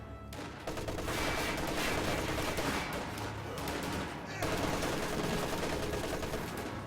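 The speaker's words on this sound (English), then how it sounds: "What's that traversing fire?" Video game battle gunfire, dense rattling volleys of rifle and machine-gun fire that keep going without a break. The shots are loud and close, with a brief dip partway through before the firing picks up again.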